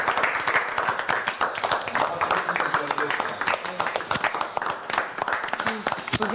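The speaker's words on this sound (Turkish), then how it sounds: "bir alkış alalım" Studio audience applause on a Turkish celebrity competition show, a steady patter of many hands clapping at moderate volume with voices talking over it.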